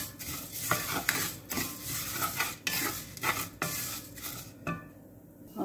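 Vermicelli stirred and roasted in a pan for milk payasam, with repeated loud spoon scrapes and clatters against the metal over a soft sizzle, close and irregular, no voices.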